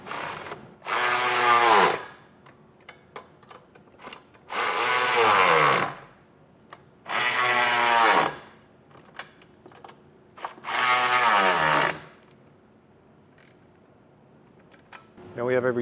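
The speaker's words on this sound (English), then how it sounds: "Now we'll tighten our hardware down. These bolts and nuts are 11 millimeters," A socket wrench tightens 11 mm bolts and nuts on Carr custom-fit side steps fitted to a 2019 Ford F-150, four loud bursts of rapid ratchet clicking spaced a few seconds apart, with quiet pauses and small clicks between them.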